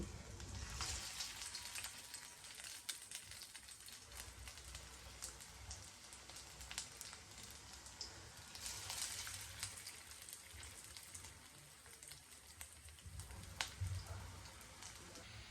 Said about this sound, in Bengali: এখন আমি একে একে সব চিংড়ির বড়াগুলোর শেপ দিয়ে তেলের উপর ছেড়ে দিচ্ছি